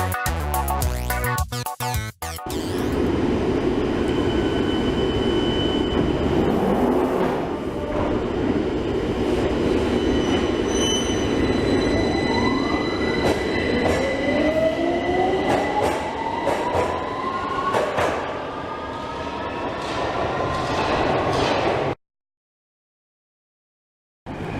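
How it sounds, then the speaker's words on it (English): A London Underground Victoria line train rumbles along inside the tunnel, loud and close, with steady clatter, rising whine as it speeds up and squealing wheels, running on for about twenty seconds before cutting out. "We're going to take the Victoria line to Euston."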